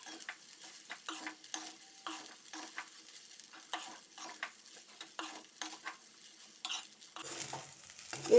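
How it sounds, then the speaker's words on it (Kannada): Leftover egg rice is stirred and fried in a pan, with repeated scraping strokes of a spoon against the metal over a light sizzle, close up and rhythmic. "ಈಗ ಎಲ್ಲ ಮಿಕ್ಸ್ ಮಾಡೋಣ"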